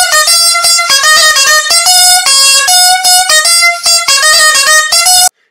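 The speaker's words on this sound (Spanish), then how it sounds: "dentro de la lengüeta doble pues encontraríamos la dulzaina." A dulzaina, a Spanish double-reed folk instrument, plays a loud, bright and nasal melody of quick, shifting notes that stops abruptly at the end.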